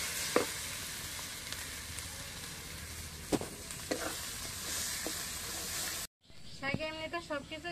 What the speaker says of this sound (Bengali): তেলের সাথে শাকটা ভালোভাবে মিশিয়ে নেবো।